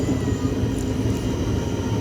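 A Vistadome passenger train runs on the Ranchi–Giridih line, a steady, fairly loud low rumble and rattle of rolling stock that continues evenly throughout without talk.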